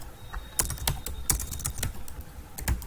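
Keys clack on a computer keyboard as an application name is typed, a close, moderately loud run of quick irregular taps with a few sharper strokes and no talking.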